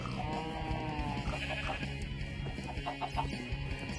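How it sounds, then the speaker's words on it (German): Chickens cluck repeatedly in the Minecraft video game, the short calls running over a steady, dense bed of background game sound, with no talking. "Was seid ihr für Hühner, die keine Eier legen?"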